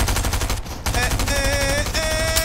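Rapid bursts of automatic gunfire in the video game Fortnite, with repeated close shots and brief gaps, overlapping faint tonal game effects.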